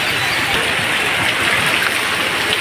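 Heavy downpour in Chhapi village, a steady dense roar of rain falling hard on surfaces, continuous and loud throughout with no breaks.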